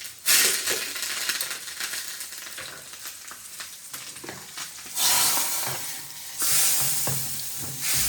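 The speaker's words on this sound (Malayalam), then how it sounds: "ഉലുവട്ടു, കടുകിട്ടു, വറ്റൽമുളക് 2 ഉണ്ടായിരുന്നു, അതും വേപ്പിലയും കൂടെ ചേർത്ത് കൊടുത്തിട്ട് നമ്മുടെ കറി അങ്ങോട്ട് താളിക്കാം" Fenugreek, mustard seeds, two dried chillies and curry leaves tempering for a curry, sizzling loudly and continuously in hot oil with stirring scrapes, surging in intensity in bursts and with no talking.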